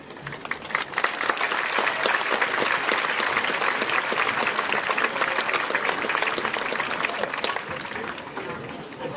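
A graduation crowd at the WIHS 2024 ceremony claps loudly and continuously, dense applause filling the hall, with voices mixed in underneath.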